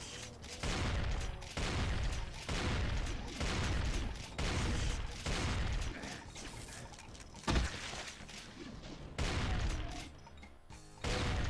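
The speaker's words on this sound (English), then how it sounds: "Lay some suppressive fire into that room there." Heavy gunfire from a Doom map: rapid bursts of shots and booms in repeated loud volleys, with brief pauses between them.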